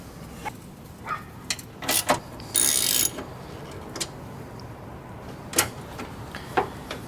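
A hand ratchet drives 10mm bolts to fasten a new intake housing to a car chassis. Scattered clicking bursts and short mechanical rattles come close against a quiet background, with no voices.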